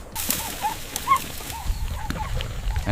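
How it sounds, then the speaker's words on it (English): African wild dogs snarl and call over a kill, a rapid series of close, high twittering yelps and snarls repeating roughly twice a second over a dusty, rumbling background. "The wild dogs snarl."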